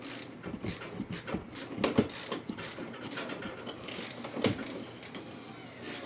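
A ratchet loosens a bolt while front aero fill plates are fitted on a Lotus Elise, giving a run of quiet, close, irregular clicking and rasping strokes over about six seconds.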